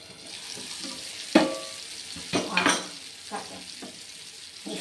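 Bottle gourd curry with tomato cooks in a pan, a soft simmering sizzle broken by a few louder scrapes and clinks of a stirring spoon, close by and with no talking.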